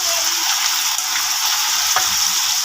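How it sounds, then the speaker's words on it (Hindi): Chicken pieces cut into cubes being added to garlic already fried golden brown in hot oil for chicken fried rice, giving a steady loud sizzle and frying hiss with faint stirring, no voices. "अभी हमारा लहसुन गोल्डन ब्राउन हो गया है तो हम डालेंगे इसमें चिकन"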